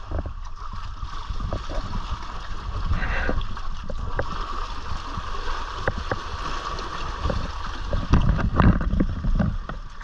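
Small waves lap and slosh steadily against a boat hull close by, with occasional knocks and splashes against the side.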